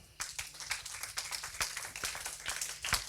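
Church congregation clapping in acclamation during a French-language service, a brisk run of sharp, fairly close hand claps with a faint steady tone underneath.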